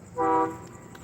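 A train horn sounds one short, clear, harmonic blast lasting about a third of a second, fairly loud, then fades into a faint background rumble.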